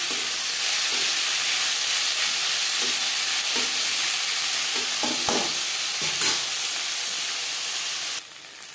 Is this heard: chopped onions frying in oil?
yes